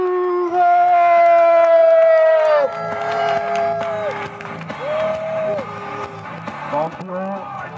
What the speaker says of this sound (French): Mesdames et messieurs, un tonnerre d'applaudissements pour